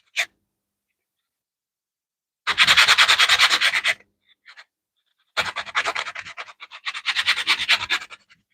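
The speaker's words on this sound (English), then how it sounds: "could still use some more sanding, as could the side" A scrap 1x4 wood board is sanded by hand in rhythmic back-and-forth strokes, one burst of scraping, a pause, then two longer bursts, close and fairly loud.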